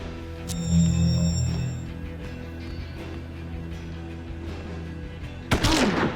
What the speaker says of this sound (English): Just gotta make sure he's in a good position where he can get a sniper shot off him, or scoped shot.